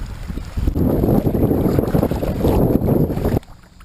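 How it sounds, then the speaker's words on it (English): A small boat or kayak paddled back up into a cove, with steady water churn and wind buffeting the microphone for about three seconds before it abruptly drops away. "I'm going to paddle back up into the cove"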